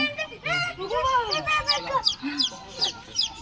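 A chicken clucks repeatedly in short rising and falling calls, close by, with human voices murmuring underneath.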